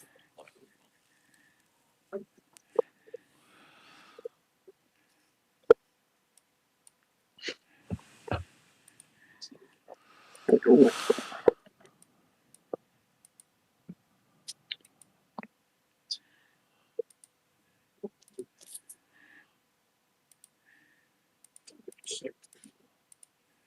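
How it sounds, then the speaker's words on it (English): Sparse mouse or key clicks on a computer during an Age of Origins game session, short sharp ticks scattered irregularly across the quiet background, with a brief louder rustle midway. "What are you clicking there?"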